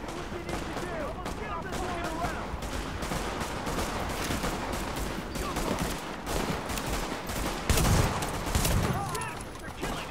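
Dense gunfire rattles almost without pause in the video game The Division, rapid bursts and overlapping shots with a heavier blast near the end, with voices talking over the fighting.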